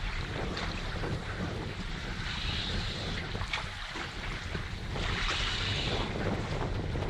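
Strong wind buffeting a small fishing boat out at sea on a snapper trip, a steady close roar of rushing air with water wash that swells louder near the end.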